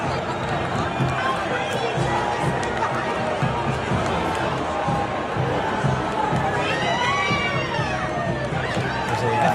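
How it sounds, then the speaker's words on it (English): A large crowd cheers and shouts for President Trump at a loud, dense rally, a steady roar of voices with whistles and shrill yells rising toward the end. "Listen to the cheers."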